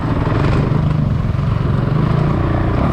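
Honda CRF450L dirt bike riding woods trails, its engine a steady loud close drone with choppy throttle pulses, no talk.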